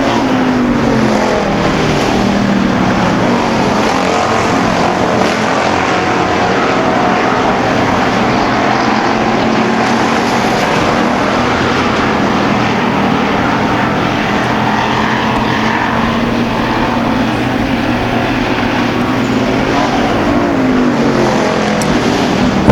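Street stock race cars roar around a dirt oval during a feature race, a steady loud blanket of engine noise with no break, close and continuous for the whole stretch.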